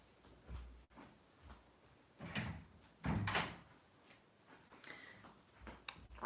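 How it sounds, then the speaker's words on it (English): An indoor door is opened, giving faint, scattered handling clicks, a rattle and a few soft thumps spread over several seconds in a quiet room. "Right, I'm gonna open the door."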